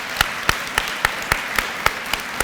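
At a nursing pinning ceremony, a few distinct hand claps ring out about every quarter second in a sparse, regular rhythm over a quiet room, more like a small group clapping than full applause.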